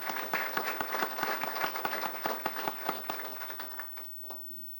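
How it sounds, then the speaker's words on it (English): Applause and clapping from a council meeting audience honoring police officers, a dense patter of many hands with sharper individual claps standing out, steady and fairly close before thinning out and fading near the end. "I know there's been a lot of clapping"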